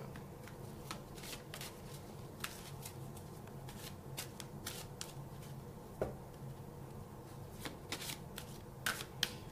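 Life purpose oracle cards being shuffled by hand, a steady run of soft papery riffles and sharp card snaps, close and fairly quiet, with no talk.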